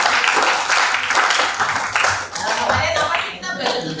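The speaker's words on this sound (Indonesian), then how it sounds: "Kita beri aplaus dulu keberanian Zulaika." A classroom breaks into lively applause for a student: dense, sustained clapping from many hands, fairly close and loud throughout, with a few voices mixed in.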